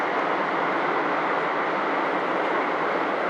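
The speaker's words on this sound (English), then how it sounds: "it's a long train. It's a very long train." A long train rolls steadily past with a dense, unbroken roar of wheels and carriages, loud and close, with no voices over it.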